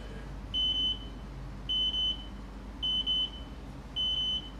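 An electronic alert marking isha prayer time gives four evenly spaced, moderately loud beeps, each a doubled high tone. There is steady low room hum underneath and no talk.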